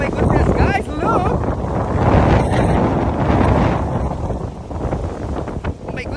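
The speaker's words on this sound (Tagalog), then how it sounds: "grabe ang lakas ng hangin" Strong wind buffets a microphone high on a treetop facing a distant mountain, roaring steadily and loud throughout as a voice talks over it.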